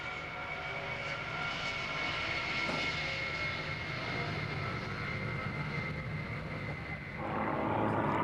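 A C-5 Galaxy military transport aircraft at the 1997 RAF Mildenhall airshow produces a continuous, heavy engine roar with a steady whine, swelling slightly near the end.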